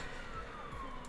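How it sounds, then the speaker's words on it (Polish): An ambulance siren, faint and distant, its single wavering tone drifting slowly downward beneath a steady background hiss. "karetka, fajnie."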